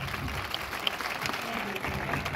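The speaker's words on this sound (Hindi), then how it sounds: "जोरदार तालियों में प्लीज कर" A Pentecostal church congregation in Lahore, Pakistan, claps together, a soft, steady patter of applause with voices mixed in underneath.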